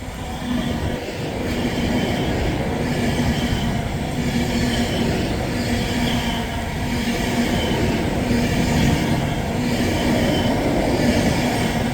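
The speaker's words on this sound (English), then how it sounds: "It's an empty stock 390 running from Wembley Intercity Depot to Rugby." An empty-stock Class 390 train runs past at Berkhamsted, a sustained loud rush of wheels and rail noise with faint clickety-clack and a steady tonal hum throughout, no voices.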